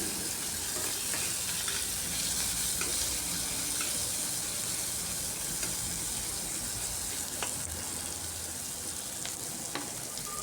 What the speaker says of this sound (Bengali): পেঁয়াজটাকেও একটু ভাজা ভাজা করে নিচ্ছি।